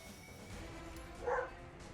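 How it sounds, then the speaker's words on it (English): A dog barks at someone heading outside, a single short, faint bark rising over a quiet background of game audio in a room. "My dog is mad that someone is going outside."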